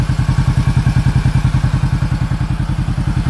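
Supercharged Kawasaki KRX 4 with stock exhaust, its engine pulsing in a fast, loud, even thumping rhythm up close, with a throaty low-pitched throb and a light mechanical clatter on top.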